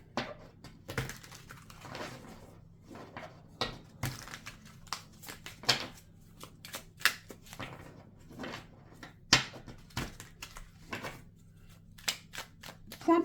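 Tarot cards handled and laid out in a cross spread, giving soft intermittent slaps, shuffles and taps of card stock against a surface, close and fairly quiet, with no talking.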